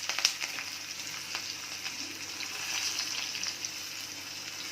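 Green chillies, ginger, cashews and curry leaves tempering in hot oil for Tamil Nadu pongal, a steady bright sizzle with crackles and pops and occasional stirring, close and continuous, with no talk.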